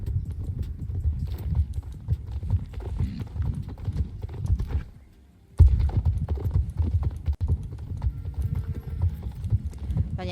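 Horse hooves clip-clop steadily in a video game, a close, continuous stream of hoofbeats that breaks off for a moment near the middle and then resumes.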